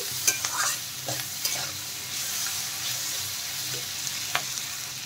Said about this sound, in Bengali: ভালো করে নেড়ে চেড়ে মিশিয়ে দেব সবজির সাথে।